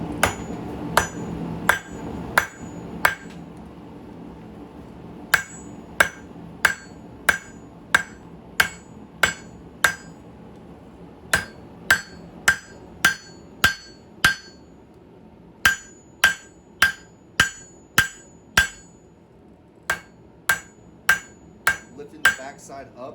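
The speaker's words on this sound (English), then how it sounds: "Hammer it down." Hot knife steel hammered on an anvil during knife making: bright, ringing metallic strikes fall in quick bursts of four to eight blows separated by short pauses, close and loud against a faint background hum.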